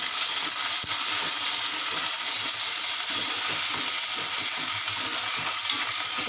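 Curry leaves sizzle in hot oil while brinjal and mango dal cooks, making a loud, steady hiss with stirring clinks and scrapes. There is no talking.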